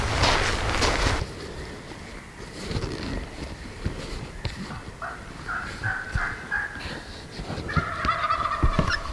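Two distant wild turkeys in Oregon gobble in a few short, rattling bursts, while a low outdoor rumble and a passing car on a nearby road fill the background.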